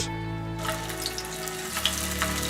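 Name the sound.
sticky rice cake slices frying in oil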